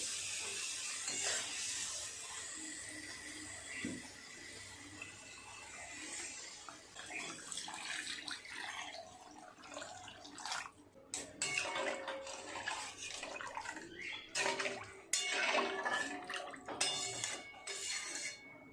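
Water is poured into a pan of fried masala, where the oil has separated, for a katla fish kalia; a faint hissing pour and sizzle run throughout, with clinks and scraping of a utensil in the pan.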